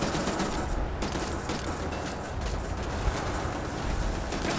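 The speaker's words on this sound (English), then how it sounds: "Dual-wielding assault rifles." Two assault rifles fired at once in Wolfenstein: The New Order, an unbroken, dense rattle of rapid automatic shots, loud and close, sustained for several seconds with no talk.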